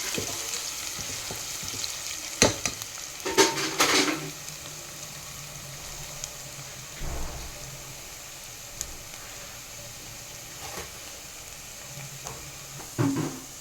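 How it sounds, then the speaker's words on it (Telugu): Ridge gourd curry ingredients fry in a pan with steady, close sizzling throughout, broken by a few louder stirring scrapes and clatters. "ఇప్పుడు ఇది వేగిపోయింది."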